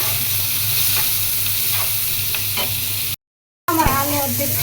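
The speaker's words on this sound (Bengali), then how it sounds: "আমি ভাজির তেলে এখন মাছ আর আলুটা ভেঙে ভাজি করে নেব" Fish and half-boiled potatoes being broken up and fried in oil with plenty of onion and chili, a loud steady sizzle with stirring scrapes, cut by a brief silent gap before the frying resumes.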